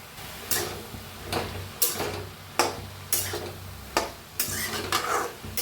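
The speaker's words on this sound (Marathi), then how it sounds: "ह्यांना बी हलवून थोडंसं तेल ओतून भाजून घेऊया।" Vegetables, including brinjal, being stirred and roasted in a little oil in a kadhai, with regular spoon scrapes and clinks roughly every second over a soft sizzle, close by.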